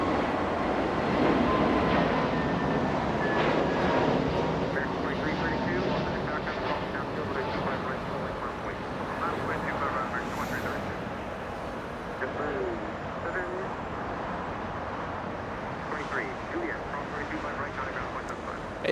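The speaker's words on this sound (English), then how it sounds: "A330 touching down right in front of Bat Bridge." An Airbus A330-300 airliner touches down at LAX with a broad, steady roar of engines and rushing air, heard from a distance and continuing throughout at even loudness.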